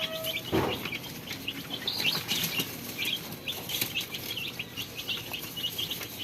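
Six-day-old Rhode Island Red and Black Australorp chicks cheep steadily in quick high peeps over a low background rustle, with an occasional soft flutter.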